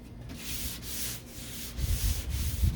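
Hand sanding with 800-grit paper on the deck lid of a 1969 Corvette, a close, rhythmic rasping in repeated back-and-forth strokes, growing louder and heavier toward the end, with no talk.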